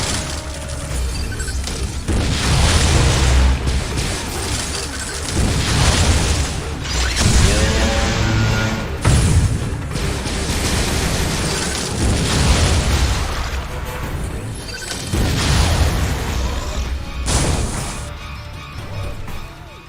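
Missile fire and heavy explosions from Metroid Other M boom repeatedly in loud, dense bursts, with crashing impacts and occasional voices mixed into the battle noise.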